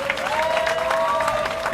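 A short, dense burst of audience applause at a book concert, steady clapping filling the room, with a faint sustained tone running underneath.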